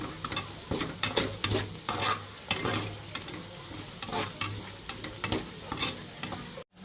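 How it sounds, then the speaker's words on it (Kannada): A spiced mixture with salt being stirred in a pan, with repeated scraping strokes in an uneven rhythm over a soft, continuous sizzle, close by and moderately loud. "ಉಪ್ಪು ಹಾಕಿ ಇವಾಗ ಕೈ ಆಡೋಣ್ರಿ. ಈ ರೀತಿ ಮಿಕ್ಸ್ ಮಾಡ್ಕೊಳ್ಳೋಣ್ರಿ."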